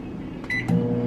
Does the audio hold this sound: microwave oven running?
yes